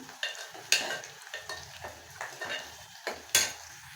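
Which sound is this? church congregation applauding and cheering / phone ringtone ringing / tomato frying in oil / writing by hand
tomato frying in oil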